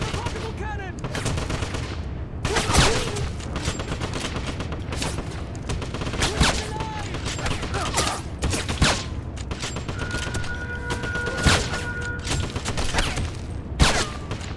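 Heavy rapid gunfire from a portable cannon in the Wolfenstein (2009) video game, a dense continuous barrage of loud blasts and mechanical clatter lasting throughout, with occasional sharper bursts standing out.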